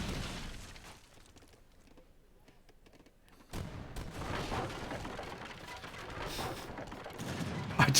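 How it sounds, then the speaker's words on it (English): Age of Empires III gunfire erupts in a firefight, with a muted stretch of scattered crackling and then a dense, loud burst of musket volleys, booms and clatter that continues to the end. "Bit of a firefight."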